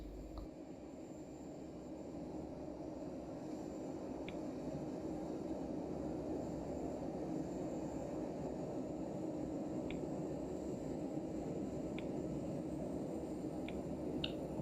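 A simulated Eurofighter Typhoon engine starts up in the Prepar3D flight simulator game, a steady broadband roar that builds slightly and then holds, with a few faint clicks.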